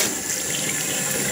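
Fresh water runs to rinse out a neti pot used for nasal cleansing, a steady, close hiss and splash of tap water pouring without pause, with no voices.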